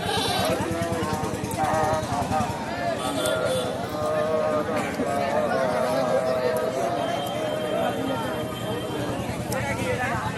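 Goats bleat repeatedly at a busy rural goat market, their calls rising over constant crowd chatter and people talking nearby, with hooves shuffling in the background.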